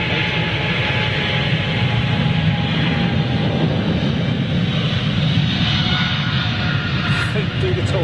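An airliner on its takeoff roll at Manchester Airport gives a continuous broad roar that holds steady throughout, with faint voices over it.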